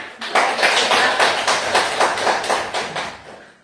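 A classroom group claps for group 3, a burst of rhythmic, fairly loud hand claps in quick regular beats that swell at first and gradually soften toward the end.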